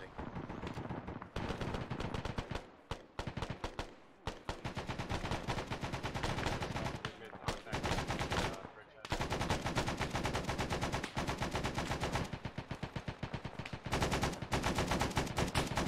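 Dense, loud gunfire fills a cooperative military shooter game, continuous rattling automatic bursts broken by a few brief pauses, with players talking over the shooting.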